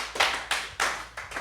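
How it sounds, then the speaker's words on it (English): A few loud bursts of clapping from a live show audience, about four distinct swells roughly a third of a second apart, close and with no voices over them. "can we just give this dude a round of applause"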